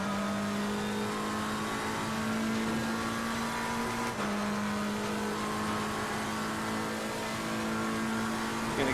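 A race car engine in the sim racing game Assetto Corsa Competizione holds a loud, steady high-revving drone throughout, with one brief gear-change dip partway through before the engine pulls on at a similar pitch.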